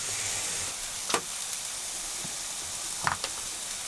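Mushrooms cook in a cast iron pan with a steady, soft hiss of sizzling and a couple of brief clinks or stirs, close and moderately quiet, with no talk.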